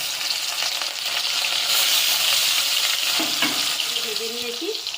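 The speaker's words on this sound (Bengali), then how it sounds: "এবার মাছগুলো একটু হালকা করে ভেজে নেব।" Rohu fish pieces fry in hot mustard oil in a pan, a loud, steady, close sizzle with occasional stirring clatter and light crackle throughout.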